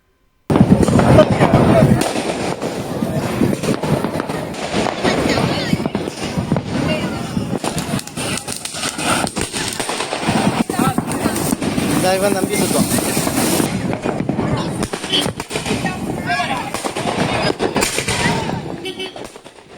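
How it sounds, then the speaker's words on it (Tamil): Diwali fireworks over Chennai burst continuously across the night sky, a dense, loud barrage of cracks and booms layered one over another with no pause, some nearer and sharper, others distant rumbles. "இரவு நேரத்தில் ஒரே நேரத்தில் பொதுமக்கள் வானவெடிகளை வெடித்த நிலையில் வானம் முழுவதும் வர்ணஜாலத்தில் ஜொலித்தது"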